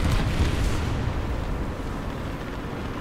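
Artillery strike explosions in War Thunder: a heavy rumbling blast at the start that rolls off into a long, low decaying roar, loud and close with no voices.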